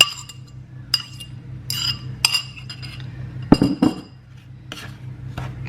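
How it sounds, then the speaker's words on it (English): Banana bread batter of banana, butter and egg mixed in a bowl, with intermittent clinks and scrapes of a utensil against the bowl, a couple of louder knocks, close up over a low steady hum. "Give that a little mix, nothing too crazy"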